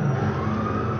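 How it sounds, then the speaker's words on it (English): A fire truck siren sounds in a video game, a steady loud tonal wail with engine hum beneath, brief and continuous with no speech. "lights and sirens."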